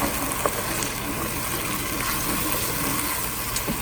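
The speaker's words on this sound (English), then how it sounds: "I want to deglaze the pot, get all of the stuff up off the bottom" Red wine poured into a hot pot to deglaze it for beef Wellington, giving a steady, fairly loud hiss and bubbling sizzle that runs unbroken without speech.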